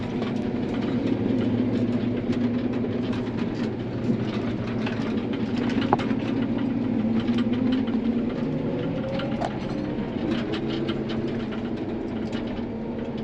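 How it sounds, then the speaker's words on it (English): Vehicle engine driving up a road, a steady low rumble with a faint rhythmic clatter, moderately loud and continuous throughout, with no talk over it. "Oh, Andrew's driving up the road."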